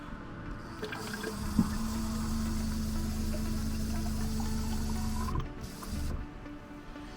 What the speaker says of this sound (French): on remplit les gourdes